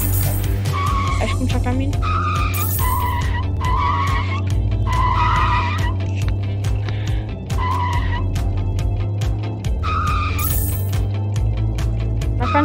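Tire skidding and engine drone from cars drifting in the Drift Boss video game, a steady loud screech running through the whole stretch beneath a player talking over it.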